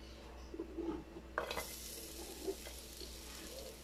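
Garlic sautéing in hot oil for a spicy Bicol Express, a faint soft sizzle with a sharp hiss as it hits the pan and a few light stirring scrapes.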